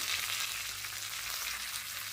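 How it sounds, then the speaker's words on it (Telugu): Cumin, dried red chillies, garlic and curry leaves frying in oil in a pan for tempering, a steady hiss-like sizzle, quiet and continuous with no voices. "ఒక బాణి తీసుకొని అందులో ఆయిల్ వేసుకొని పోపుగా జీలకర్ర ఎండుమిర్చి వెల్లుల్లి కొద్దిగా కరివేపాకు వేసుకొని"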